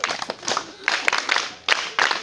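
A small group of children claps in a classroom in short, uneven bursts with brief gaps between them, heard close by.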